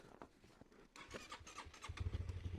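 A Honda CBR125R motorcycle that has stood unused for a while turns over. Faint cranking clicks give way to a rising, sputtering engine catch in the final second.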